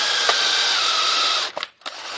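A power drill whirs steadily at close range, boring into an engine freeze plug, then briefly stops, stutters, and starts up again.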